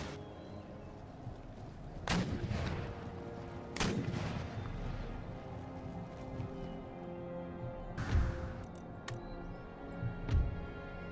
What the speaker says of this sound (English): howitzers on the left. Drop shots right there.